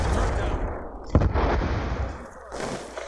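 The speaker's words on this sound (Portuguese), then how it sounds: "vamos jogar uma bomba." A grenade explodes in Black Ops 2 online multiplayer, heard as a single heavy boom amid rumbling gunfire and battle noise, with faint voices in the mix.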